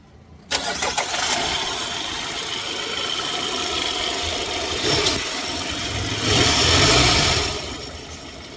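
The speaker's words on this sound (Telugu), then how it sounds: "వెహికల్ వచ్చేసి మనకు కంప్లీట్గా పెట్రోల్ వెహికల్ ఇంజిన్ సౌండ్ వచ్చినట్టు వస్తుంది" A petrol car engine cranks and catches, then settles into a steady, smooth idle with a brief rise in revs partway through, heard up close with no voices.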